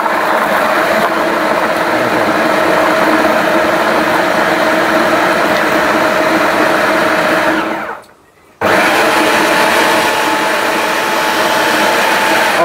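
Miyako food processor whirring steadily as it blends ingredients into a paste, a loud continuous motor drone with a brief cut-off near the end before it starts again, with no talk.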